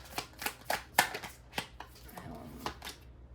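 A deck of tarot-style cards being shuffled close up, a quick run of crisp riffling snaps and flutters that trail off into softer rustling.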